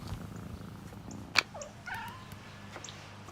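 A cat purrs softly over a low steady rumble, with a couple of brief higher chirps and a sharp click partway through, in a Sheba cat food advert.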